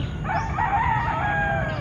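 A rooster crows from a tree on a misty morning in one long drawn-out call, clear and fairly close, with a steady low rumble of background noise underneath.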